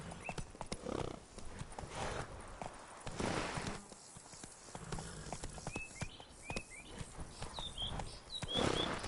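Roach the horse trotting in The Witcher 3, steady clip-clop hoofbeats with occasional snorts and whinnies, birdsong chirping in the background.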